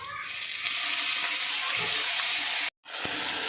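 Chopped onion, nigella seeds, dried chilli and ground spice paste fry in hot oil for a Bengali hilsa, potato and eggplant curry, making a loud, steady broadband sizzle that cuts out briefly near the end before resuming.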